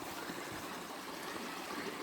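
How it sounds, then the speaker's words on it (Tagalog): A provincial river flows with a steady, even rush of water, continuous and fairly faint, with no voices. "Ito po ang aming ilog."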